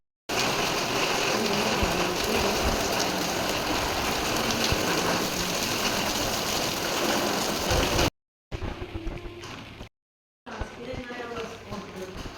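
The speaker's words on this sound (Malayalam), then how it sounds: "ഇപ്പൊ നല്ല മഴ വന്നിട്ടുണ്ട് കേട്ടാ" Steady rain pours for several seconds as a dense, even hiss, then cuts off briefly and resumes in shorter stretches.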